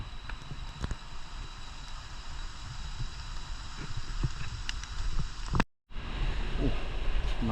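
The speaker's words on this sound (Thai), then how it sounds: "ำตกเสียงดังมากโอ้น้ำตกใหญ่" A large mountain waterfall roars loud and steady in misty, rain-soaked forest at Khao Chet Yot, Phatthalung, its dense rushing wash unbroken apart from one brief dropout near the end.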